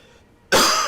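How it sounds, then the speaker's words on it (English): A single sudden, harsh cough bursts out loud and close after a near-silent stretch, cutting off at the end. "my coughing is pretty bad right now"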